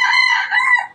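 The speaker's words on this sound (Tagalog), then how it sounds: "Maganda ng mga tilaok na aking mga manok." A gamecock rooster crows once, close and loud, a short strained call that trails off within a second.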